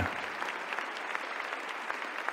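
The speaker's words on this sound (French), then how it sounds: "900, applaudissons-les." Steady applause from a large crowd at an arena Bible study event, dense clapping throughout at a loud, even level.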